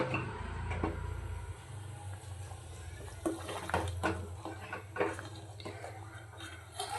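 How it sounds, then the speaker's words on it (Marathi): Hot water pours into a simmering country-style mutton curry in a pot, a steady continuous splash close by with a few clinks of a vessel partway through. "गरम पाणी ॲड करूया."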